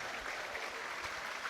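Distant stadium crowd applauding steadily at a football match between Wrexham and Bristol Rovers, a broad, even wash of clapping held for a minute's applause with no pauses.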